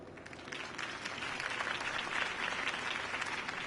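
A crowd in a Batman video game applauds after a campaign speech, a dense, steady wash of clapping that holds at moderate loudness throughout.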